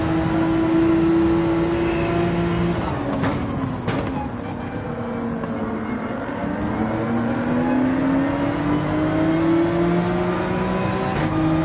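Car engine in the Gran Turismo 7 racing game accelerating, a loud, continuous revving tone that climbs in pitch, dips briefly as if shifting gear, then rises again, with no talking over it.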